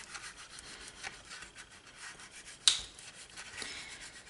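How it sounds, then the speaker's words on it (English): Bone folder burnishing down a fold in a paper card tea light box, heard as soft, close rubbing strokes repeating unevenly, with one sharper scrape partway through and no voices. "grab a pencil or whatever, your bone folder, and just reach in there and kind of burnish it down."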